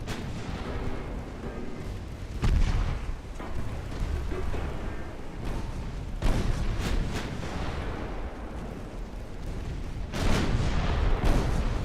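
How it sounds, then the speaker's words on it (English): Warship guns firing in the naval battle game Ultimate Admiral Dreadnoughts: repeated heavy booming salvos with sharp onsets around 2.5, 6.5 and 10 seconds, over a continuous rumbling battle background with no talk. "Please continue shooting at the same damn target till he sinks."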